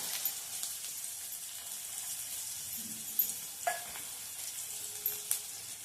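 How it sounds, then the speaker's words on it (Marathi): Finely chopped onion frying with turmeric and cumin in a pan: a soft, steady sizzle with occasional light scrapes of a spoon, fairly quiet and with no talking. "हा कांदा छान गुलाबीसर रंगावर होईपर्यंत परतून घ्यायचा आहे."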